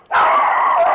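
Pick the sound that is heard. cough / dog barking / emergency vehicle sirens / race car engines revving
dog barking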